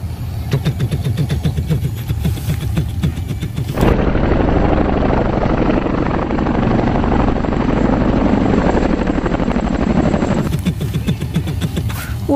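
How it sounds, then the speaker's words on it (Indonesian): Loud transport helicopter engine and rotor noise dominate close by, a steady broadband roar swelling in the middle of the stretch before easing back, with no talking over it. "Ada helikopter transportasi."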